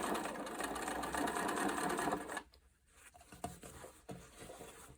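A sewing machine top stitching a double row on jeans runs steadily and close for about two seconds, stops, and then gives a few short bursts of stitching.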